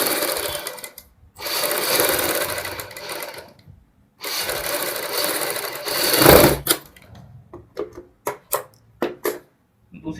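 A sewing machine runs stitching piping onto a blouse back neck, with two long steady bursts of whirring, then a run of short separate stitching spurts and clicks toward the end.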